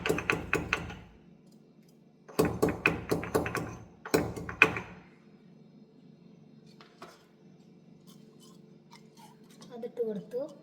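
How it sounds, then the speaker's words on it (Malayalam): Cardamom being pounded into powder on a stone, three bursts of rapid sharp knocks separated by pauses, fairly close, with quieter faint sounds after. "ഏലക്ക പൗഡർ കല്ലിൽ കുത്തിയെടുക്കുകയാണ്"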